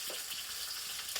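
Fenugreek seeds sizzle and crackle in hot oil in a home kitchen pot, a steady close frying hiss with small pops throughout, no voices.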